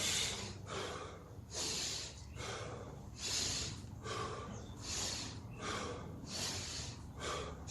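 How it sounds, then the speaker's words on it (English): Slow, deep breaths, in through the nose and out through the mouth, repeat in a steady cycle during a workout, about six rounds of airy inhales and exhales, close and fairly quiet, with no speech. "in through the nose, out through the mouth"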